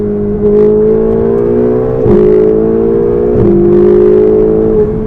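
A Ferrari 488 GTB accelerates hard, its loud engine note climbing steadily, then dipping briefly at two quick upshifts before pulling up again, close and continuous.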